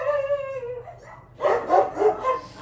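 Dogs bark several times in quick succession, close and fairly loud, after a drawn-out whining howl at the start.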